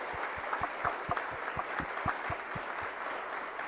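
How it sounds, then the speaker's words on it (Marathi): A crowd at a project competition prize distribution applauds steadily for the 123 competing groups, with continuous clapping and a few sharper claps standing out. "सो त्या 123 ग्रुपसाठी आपण टाळ्या वाजूया"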